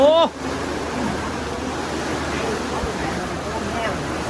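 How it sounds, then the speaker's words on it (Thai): Strong wind gusting during a rainy outdoor gathering, a constant broad roar and rush across the microphone, briefly preceded by a short voice at the start. "ลมแรงมากเลยครับ"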